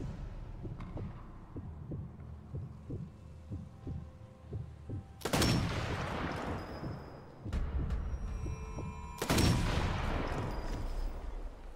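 Rifle shots from the video game Sniper Elite 4 ring out as two or three loud, sharp blasts with long decaying tails, cutting through a quiet pulsing background.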